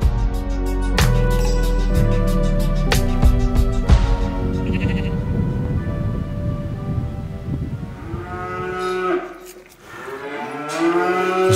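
Sheep bleat and call loudly on grassy ground beside puffin nesting areas, with several overlapping, wavering cries close by and a quieter spell before another bleat near the end.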